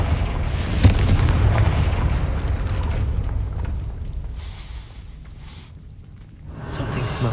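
A Confringo fire spell blasts in Hogwarts Legacy: a loud, sharp boom near the start, then rolling rumble and debris noise that fades and swells again.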